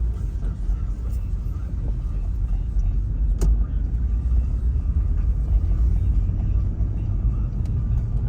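A 2000 Toyota 4Runner engine running, a steady low rumble with constant loudness throughout and a faint knock or click partway through, no voices.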